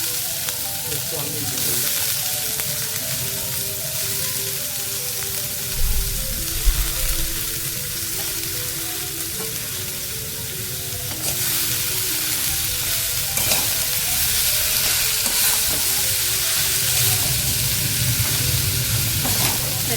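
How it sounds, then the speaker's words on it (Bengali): Potatoes frying in a pan on low heat for a quick pakora-like snack, a steady close sizzle with repeated stirring scrapes running throughout, no speech. "এবার এতে আমি আলুগুলা দিয়ে দিব। এই সময় আঁচটা কিন্তু একদম হালকা রাখতে হবে।"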